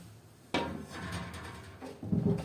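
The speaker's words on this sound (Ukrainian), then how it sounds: "ми витягуємо шуфлятку" Pulling out the drawer of a bottom-mounted beehive pollen trap: a sudden wooden scrape and knock, a short rattling slide, then a second bump, close and fairly quiet.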